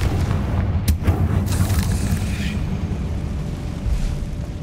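The Confringo fire spell goes off in the Hogwarts Legacy video game as a loud, booming blast with a sharp onset, then a rumbling roar that slowly fades.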